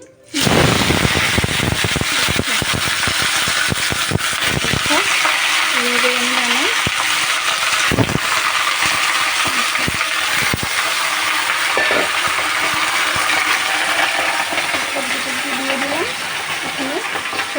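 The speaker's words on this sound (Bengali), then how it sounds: "দেখো এখানে আমার পাঁচফোড়নটা পুরো লাল হয়ে গিয়েছে এখন সবজিগুলো দিয়ে দিবো" Vegetables going into a pan of panch phoron fried red in oil, a burst of clattering and stirring followed by a loud continuous sizzle, with faint talk underneath.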